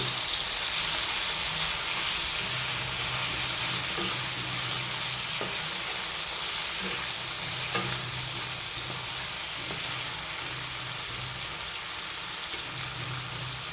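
Hariyali chicken curry, salted and mixed, fries hard in a pan with a loud, continuous, even sizzle and faint occasional stirring clinks, close up, with no voices.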